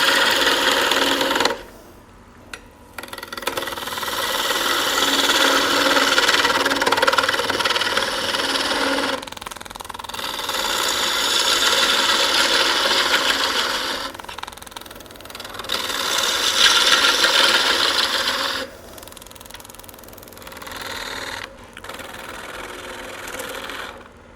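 A woodturning lathe spins as a tool wastes away wood from a blank for a rustic Christmas ornament, loud scraping bursts alternating with brief quieter pauses over a steady motor hum.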